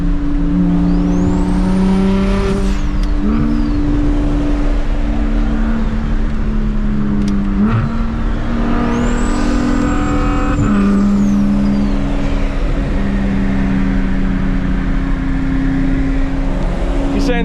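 A big-turbo BMW 335is accelerates hard, its engine note climbing through the revs with a rising turbo whistle, easing off around a gear change and building again, close and loud, with a brief voice in the background.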